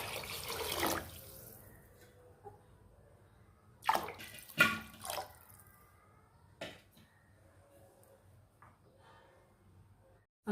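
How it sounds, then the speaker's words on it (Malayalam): Water splashing into a cooking pot of rice for prawn biryani, a gurgling pour at the start followed by several brief sloshing bursts, fairly close and soft, with quiet gaps between. "അതിന് ഞാൻ 10 ഗ്ലാസ് വെള്ളം ചേർക്കുന്നു."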